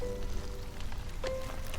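Steady rain falls in the video game Against the Storm, a constant dense patter with faint tonal game sounds drifting through, no voices.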